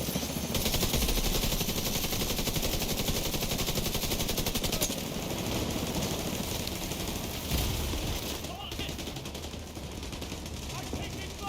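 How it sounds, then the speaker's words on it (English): Rapid automatic gunfire rattles almost without pause in a firefight in the video game The Division 2, loud and dense throughout, with voices talking over the shooting. "I'm taking fire."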